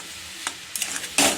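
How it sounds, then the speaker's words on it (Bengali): Egg and flattened rice stirred and fried in a pan over high gas: a couple of brief scraping stirs, then a loud burst of sizzling near the end. "দিয়ে এবার কন্টিনিউ নাড়তে থাকবো, গ্যাসটা বাড়িয়ে দিয়ে নাড়তে থাকবো"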